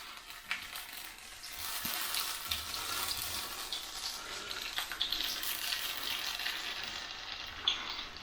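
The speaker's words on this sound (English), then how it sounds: "they should start sizzling as soon as they go in" Sage leaves fry in hot oil in a pan, giving a steady, soft, crackling sizzle with small pops, fairly quiet and continuous throughout.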